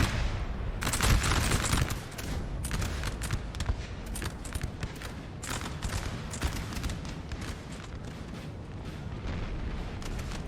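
Dense volleys of musket fire crackle through a town skirmish in the Napoleonic-era strategy game Napoleon Total War, loud overlapping shots and rolling booms, heaviest early, then continuing as scattered ragged bursts.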